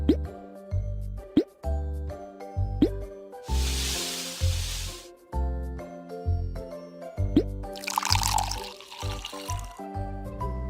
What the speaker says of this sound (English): Put the ingredients into the blender.